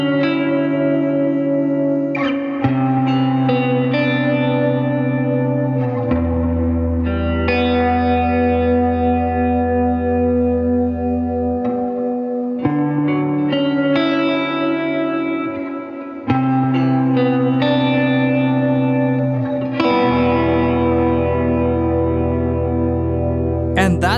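Clean electric guitar chords ring out with a long delay and reverb in an ambient post-rock style, echoing repeats and a wide reverb wash, notes sustaining and overlapping as new chords are struck.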